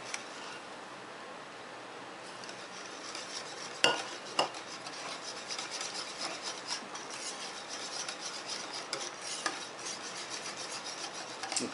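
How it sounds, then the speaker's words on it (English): A spoon stirs an orange cream ice cream base in a bowl, soft rasping scrapes and occasional clinks repeating close by and fairly quiet, with one louder knock early on and no talking. "And I'll stir that in."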